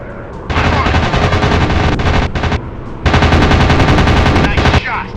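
Rapid machine gun bursts from an aerial combat video game, loud and close, several long rattling volleys separated by brief pauses.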